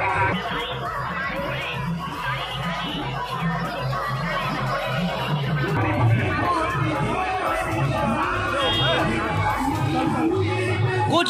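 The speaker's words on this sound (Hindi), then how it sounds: "बहुत ज्यादा भीड़ है।" Dense crowd chatter fills the Kinner Akhada at the Magh Mela in Prayagraj, a continuous loud babble of many voices close around, with a nearby voice speaking over it.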